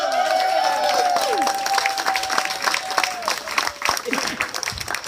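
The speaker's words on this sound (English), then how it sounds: "if you would give for me a big round of applause, let's give it up for my nephew" Crowd applause with some cheering at a marine boating rendezvous at Old Bahama Bay, welcoming a man on stage; clapping sits under tonal whistles or feedback and voices, thinning out toward the end.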